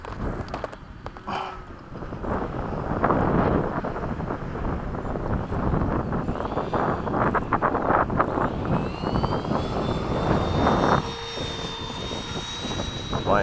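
An FMS 80mm Hawk RC model jet at an airshow practice flies past with a loud, sustained turbine roar and rising whine, rough with wind buffeting on the microphone, fading slightly toward the end.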